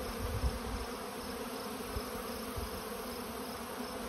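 Bees buzz steadily and close around hives during robbing season, a dense continuous hum with no pauses and no voices.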